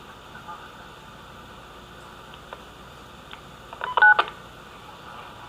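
A short burst of telephone keypad tones near the middle, a few quick beeps over a steady hum and low background noise, a 49 MHz cordless phone call picked up on a scanner.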